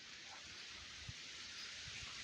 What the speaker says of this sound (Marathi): कमीत कमी 1 तास झालं पाऊस चालू आहे.